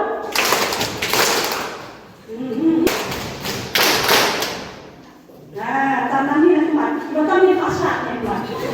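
Two ragged bursts of group clapping from a crowd at a youth program event, each about a second long with a pause between, followed by people talking.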